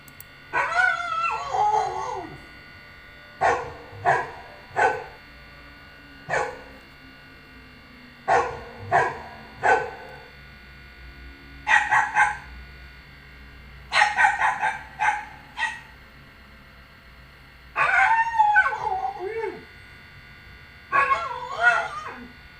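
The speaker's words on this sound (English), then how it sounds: "It's a dog." Dog barking in short bursts of several sharp barks and yips separated by pauses, close and fairly loud, with occasional whimpering tones and no talking over it.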